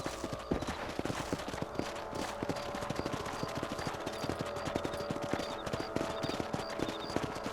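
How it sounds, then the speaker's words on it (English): Horse hooves clip-clop in a quick, steady gallop while riding in Red Dead Redemption, with a faint game soundtrack running beneath the footfalls. "Let's get back on the horses and see what else is going on."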